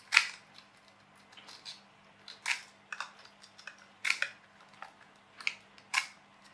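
Scissors cut out a weed guard for a jet boat, giving about eight crisp, close snips at uneven intervals against a quiet background.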